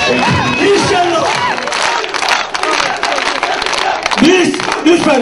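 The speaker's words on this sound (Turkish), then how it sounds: "Biz lütfen tezahürat istemiyorum." A crowd at an AK Parti candidate introduction in İskenderun cheers and shouts loudly, with dense voices, whistles and bursts of yelling throughout, close and continuous.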